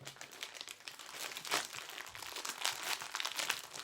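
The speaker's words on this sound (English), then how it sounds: "I'd actually put it in the edge of the wrapper and roll it up like a sausage roll" Thin wrapper being rolled up around a homemade child's dumbbell, giving a steady run of close, crisp crinkling and crunching with louder bursts of rustle throughout, no voices.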